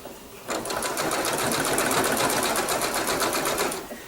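Sewing machine running a blanket stitch along quilt binding, a steady fast rhythmic chatter of needle strokes lasting a few seconds, close and clear.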